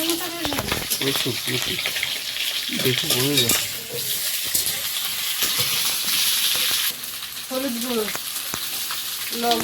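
Potatoes sizzle and crackle in hot oil with a steady hiss, while a utensil stirs and scrapes and people talk over the frying.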